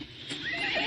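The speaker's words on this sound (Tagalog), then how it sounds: "Akong higalang kabayo." A single short horse neigh, close and fairly quiet.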